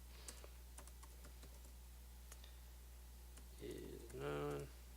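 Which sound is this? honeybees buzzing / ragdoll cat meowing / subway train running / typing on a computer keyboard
typing on a computer keyboard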